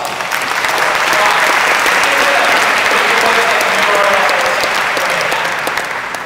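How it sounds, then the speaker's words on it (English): Applause from a large audience at a health technology launch event, a thick, sustained roar of clapping that swells slightly and holds steady, with a faint voice underneath. "Let's give a big round of applause."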